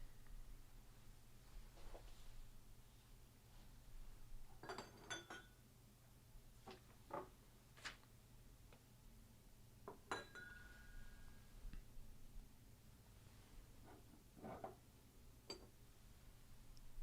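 Glasses clink during a live bourbon blind tasting, with scattered sharp chinks and taps spread irregularly over a low steady hum, some ringing briefly, mostly faint with a few louder knocks.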